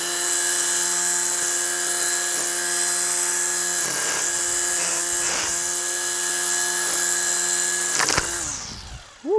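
A Ryobi 40-volt lithium-ion cordless string trimmer runs steadily at high speed with a loud whining motor drone, holding constant for about eight seconds before winding down at the end.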